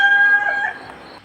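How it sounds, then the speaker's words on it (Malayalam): A rooster crows once at a family home early on a Sunday morning, a close, clear, drawn-out call that tapers off near the end. "കോഴി കൂവി"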